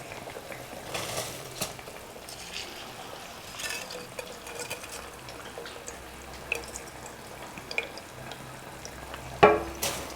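Soaked seeraga samba rice is stirred into a vegetable biryani pot, making soft wet scraping and sloshing with faint drips and clinks and one sharper knock of the spoon near the end.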